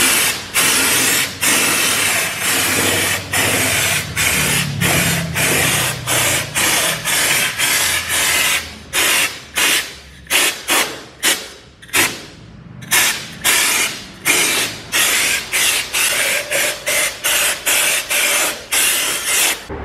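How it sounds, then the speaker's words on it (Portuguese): Rubberized undercoating is sprayed from an aerosol can into a car's wheel well in a long series of loud, close hissing bursts, some sustained and others quick and choppy, with brief pauses between them. "Vamos aplicar mais uma demãozinha pra esse negócio ficar bom."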